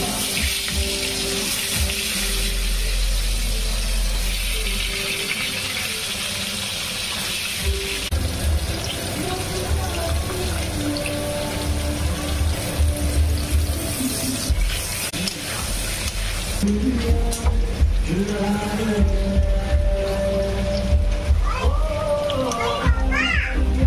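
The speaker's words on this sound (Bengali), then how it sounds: "তোমরা দেখতেই পাচ্ছ ফ্রাই হচ্ছে এটা।" Chicken and potatoes frying in a hot pan on a home stove, a steady broad sizzle running throughout beneath children's voices and adult talk.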